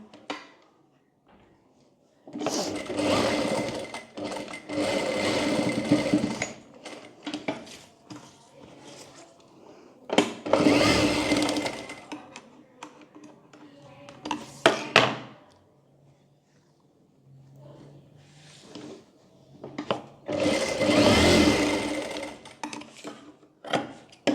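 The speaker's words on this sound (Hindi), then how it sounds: "यहाँ पर और यहाँ पर दोनों तरफ सिलाई कर लेंगे हम" A sewing machine stitches a deep-neck back-hook blouse in three loud, whirring bursts of several seconds each, separated by quieter pauses with faint handling noises and knocks.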